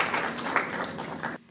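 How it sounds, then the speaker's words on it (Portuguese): Audience applause at a cinema museum seminar in a cultural centre, a dense patter of many hands clapping at moderate level that cuts off abruptly near the end. "peço uma salva de palmas"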